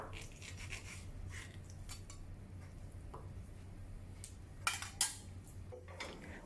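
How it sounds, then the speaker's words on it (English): Knife cutting grilled lemongrass chicken into large pieces on a board, soft scattered taps and scraping clicks at close range over a quiet background hum. "Let it cool a little and cut it into large pieces."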